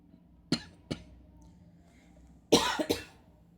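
A person coughs in a quiet indoor setting, two short separate coughs followed by a louder burst of two quick coughs near the end.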